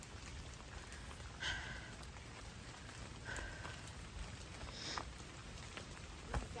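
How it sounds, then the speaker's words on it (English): Rain falling on a hiking trail, a soft continuous patter that stays faint and even, with a few slightly louder drops or knocks here and there. "It's raining a little bit. It's more than a sprinkle,"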